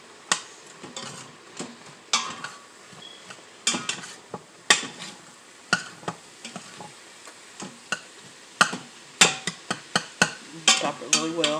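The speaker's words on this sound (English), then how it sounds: "And so I'm going to get in there and stir it up." Spoon stirring rice seasoned with turmeric and chili powder inside an Instant Pot while making Spanish rice, giving irregular close scrapes and clinks against the pot, some quick and clustered, with no talking.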